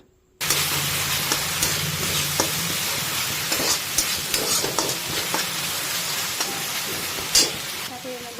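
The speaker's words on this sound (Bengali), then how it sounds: "সর্ষে বাটাটা দিয়ে, আর এই দেখুন দিয়ে দিচ্ছি হলুদের গুঁড়ো দিয়ে এটাকে ভালো করে এর সাথে আমাদেরকে প্রথমে মিক্স করতে হবে।" Mustard paste and turmeric powder being stirred into a small fish curry in a hot pan, a steady close frying sizzle with scraping stir sounds throughout, no talk.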